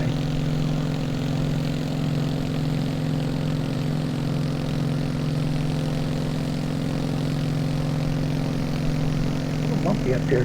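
In the MSFS2020 flight simulator, a Beech 18 propeller plane cruises in flight with a steady, droning engine hum that holds evenly throughout, with no talk over it.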